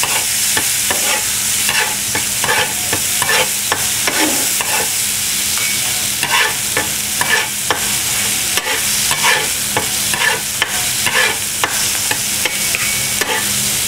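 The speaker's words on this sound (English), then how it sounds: "make sure I'm going to keep this balsamic vinegar tossing onions in there" Onions cooking with balsamic vinegar in a pan, a loud continuous sizzle broken by repeated rhythmic scraping and tossing strokes throughout, no speech.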